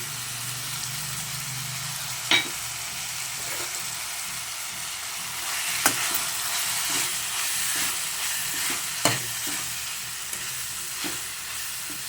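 Grated coconut frying in a pan with spices for mutton sambar, a steady soft sizzle with occasional scraping stirs and sharp clinks, no talking.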